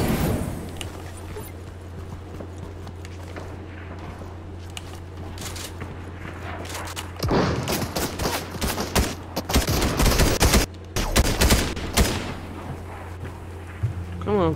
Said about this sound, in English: Yeah, somebody shooting at me.